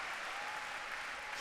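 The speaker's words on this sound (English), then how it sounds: "The crowd showing their approval." Steady, dense clapping rolls from the stands at a Davis Cup doubles tennis match, a brief even burst of crowd approval.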